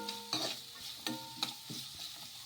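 Chopped green chillies stirred into homemade noodles in a hot pan: a few distinct scraping strokes of a spoon over a low sizzle, close up, with no voices.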